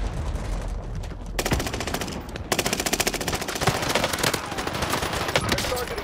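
Rapid automatic gunfire from Call of Duty: Warzone rattles continuously in dense, loud bursts, with repeated shots over game sound and no clear talk.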